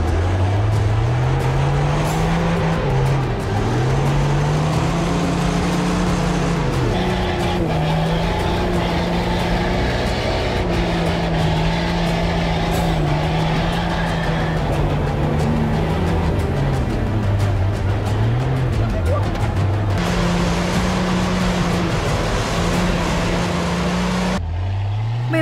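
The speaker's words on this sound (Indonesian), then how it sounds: "Melalui jalan tanah yang licin dan lembek bekas guyuran air hujan, membuat ban mobil off-road sering slip dan terpleset di antara lumpur." An off-road car grinds along a slippery, rain-soaked muddy dirt road, its engine droning loudly and continuously with wavering revs as the tires slip, close and steady throughout.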